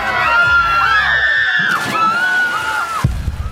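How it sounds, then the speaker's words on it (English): Panicked crowd at an orca stadium show, with high piercing screams and wailing cries that rise and fall in overlapping waves, loud and close, before a sudden burst of rough noise near the end. "Shouts colliding, children crying, water crashing like thunder."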